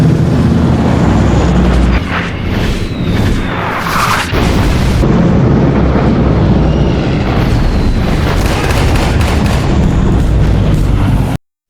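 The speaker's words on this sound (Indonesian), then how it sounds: "Ternyata pesawat pasukan sekutu tiba lebih dulu dan membombardir tempat itu" Aircraft bombing in a wartime scene, with loud, continuous booming explosions and rumbling blasts layered over one another, sounding close and heavy, with no talk.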